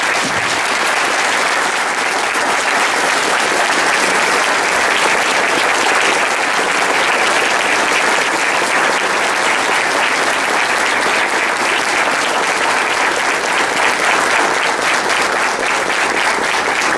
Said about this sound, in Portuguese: calorosa salva de palmas.